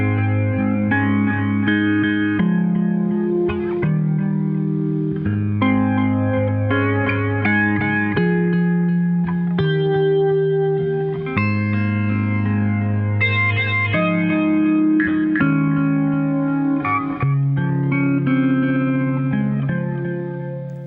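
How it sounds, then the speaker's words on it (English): Clean electric guitar played through a Boss HF2 Hi Band Flanger pedal: sustained chords and arpeggiated notes carry a sweeping, shimmering modulation, steady and loud throughout with no voices. "I find that the HF2 sounds better on clean guitar than the BF2 does"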